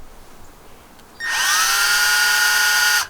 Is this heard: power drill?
yes